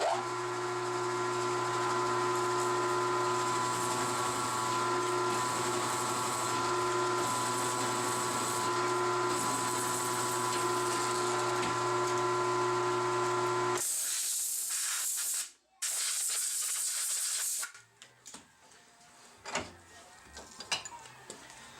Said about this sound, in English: I'm using a 5/8 inch end mill to